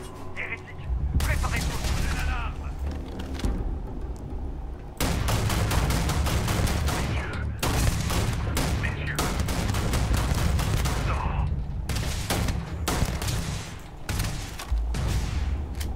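Sustained bursts of gunfire from a gun in Starfield ring out loud and near, several dense volleys separated by brief gaps, with boomy low impacts throughout.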